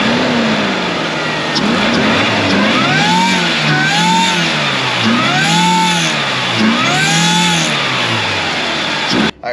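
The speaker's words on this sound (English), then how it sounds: "The engine runs good, but I'll let you guys hear it." Supercharged Toyota 3RZ engine in a 4x4 Sunrader motorhome, suspected of a blower fault, running loud and close with a steady rough drone and repeated swelling revs that rise and fall in pitch, alone without talk.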